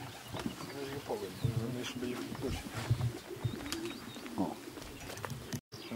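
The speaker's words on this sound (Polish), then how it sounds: "No i kolejne gołębie przychodzą." Racing pigeons cooing at a loft during their arrival, repeated soft throaty coos from several birds, close by, with faint chirps and background rustle.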